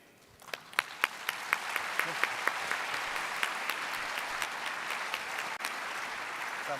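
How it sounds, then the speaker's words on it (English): Audience applause at a forestry congress ceremony, starting with a few distinct claps that swell into steady, sustained clapping from a sizeable crowd, moderately distant and even throughout. "another big round of applause, please"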